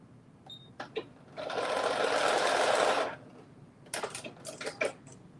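A sewing machine stitches a seam, a steady, close whirring burst of needle strokes lasting about a second and a half, framed by quick clicks and taps of the machine before and after.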